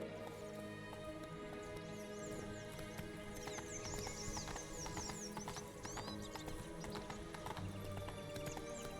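A horse gallops in The Witcher 3 with steady rapid hoofbeats and an occasional whinny, heard fairly quietly under a constant game soundscape of ambience and music.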